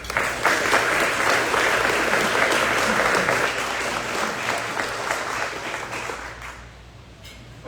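Applause from a lunch crowd welcoming Senator Brandon Creighton, a dense burst of clapping that holds steady for several seconds and then thins out and fades near the end.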